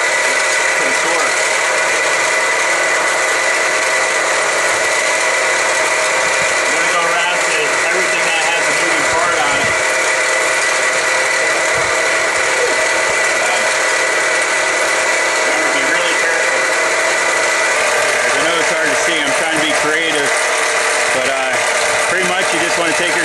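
Car engine running steadily under the hood during a noise diagnosis, a continuous mechanical hum and whir with faint ticking, close and constant throughout.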